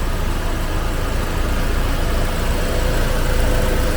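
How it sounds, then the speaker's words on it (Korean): A 2.0-litre Hyundai LF Sonata's engine idling steadily, a constant rumble with broad hiss and no change in pace, no voices present. "엔진 소리 들리나요?"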